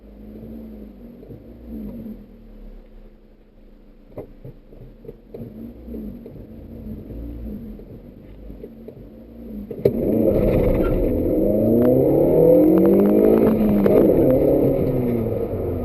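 A 2005 Suzuki Ignis Sport with its 1.5-litre M15A engine runs at a steady low rumble, then surges loudly into a hard, rising rev as it accelerates to overtake, holding a strong throaty drone to the end.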